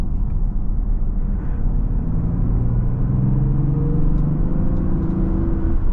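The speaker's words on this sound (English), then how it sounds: "I'll just slow down a bit and give it a bit of throttle so you can hear it" Mazda CX-60 D50e diesel inline-six revving under throttle while slowing in the mid-range, a steady low rumbling engine drone from inside the car with a gradually rising tone.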